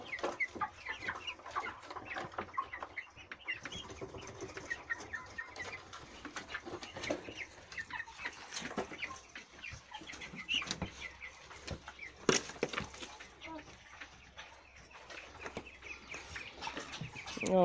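Young turkeys and other poultry cluck in a chicken coop in the morning, with scattered calls, scratching and occasional wing flutters at a moderate, fairly distant level throughout.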